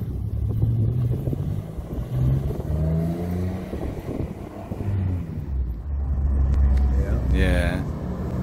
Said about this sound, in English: Now we have Mikey taking for a spin with David